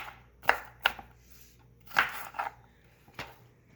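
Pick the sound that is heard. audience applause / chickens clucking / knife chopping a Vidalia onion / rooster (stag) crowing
knife chopping a Vidalia onion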